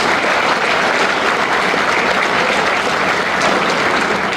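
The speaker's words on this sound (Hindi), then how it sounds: "अच्छा लग रहा तो एक बार जोर से ताली बजा के" Loud, steady applause from an audience at the inauguration of a model cargo terminal and railway siding in Gurugram, dense clapping filling the whole stretch without a break.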